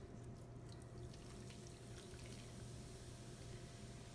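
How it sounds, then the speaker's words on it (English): Root beer pours steadily into a RockCrok Dutch oven, a soft continuous liquid rush and trickle heard quietly and close, without speech. "what we're gonna do is pour in 6 ounces of root beer."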